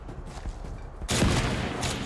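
A gunshot fires in the CrossfireX video game, where a sniper is under RPG fire. One sharp, loud report lands about a second in, followed by sustained noisy gunfire that carries to the end of the clip.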